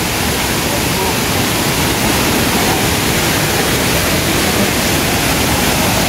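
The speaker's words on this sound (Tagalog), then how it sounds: "Ganda ng falls." A tiered waterfall pours with a loud, steady roar of rushing water that fills the whole clip without pause.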